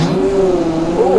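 KTM 250cc two-stroke dirt bike engine revving hard at a moto ranch, a loud, close, sustained high-pitched rasp that climbs in pitch near the end.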